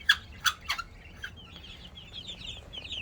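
Silver Yangon ornamental chickens cluck close by, three sharp calls in quick succession, then a few softer clucks and faint chirping peeps that trail off.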